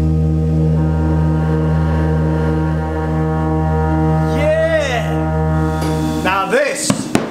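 A repaired church organ pipe sounds a steady, sustained tone, fairly loud and unbroken, while a voice briefly cuts in near the end.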